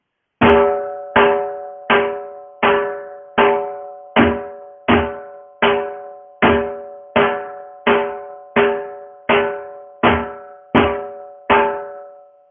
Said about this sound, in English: Now if I play 2 cycles, it should sound like this.